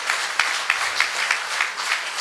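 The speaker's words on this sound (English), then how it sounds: "see the kind of claps which he is getting" Audience applause for a quiet zoology teacher at a school alumni gathering, a steady wash of many hands clapping with a few louder individual claps standing out at a regular beat.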